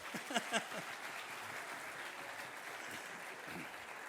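Banquet audience applauding at a Kislev dinner in Buenos Aires, faint, distant scattered clapping with a couple of louder claps near the start, under a low murmur of voices.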